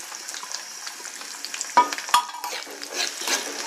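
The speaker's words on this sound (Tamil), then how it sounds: "பூண்டு வந்து இந்த எண்ணெயிலே இருந்து நல்லா வதங்கிடணும்" Garlic and onions fry in hot oil with a steady sizzle, and a spoon scrapes and stirs the pan a few times.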